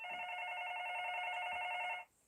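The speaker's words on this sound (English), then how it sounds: "Y'all know that phone ring." A telephone rings once in a long, steady electronic trill that cuts off abruptly, fairly faint and heard alone with no talking.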